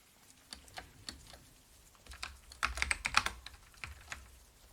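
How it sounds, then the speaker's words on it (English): Someone types on a beige mechanical keyboard. Scattered key clicks start sparse, then come in a quicker, louder flurry of clacks, then thin out again, all close up with no talking. "I do have this mechanical keyboard, which I have not used in ages"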